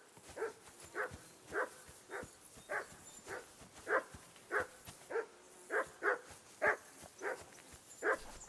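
A dog barks repeatedly in Kingdom Come: Deliverance 2, about fifteen evenly spaced moderate barks at a steady rhythm over a quiet outdoor background, with no talking.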